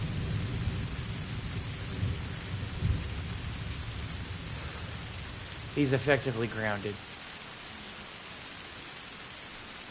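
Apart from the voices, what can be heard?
rain and thunder in video game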